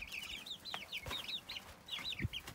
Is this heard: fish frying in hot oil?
no